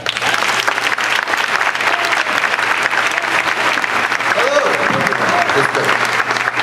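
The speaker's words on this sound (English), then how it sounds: "Please give a round of applause to Kyle Abbott." Sustained applause from a presentation audience welcoming a speaker at a PechaKucha-style talk night, dense and steady throughout with a low hum underneath.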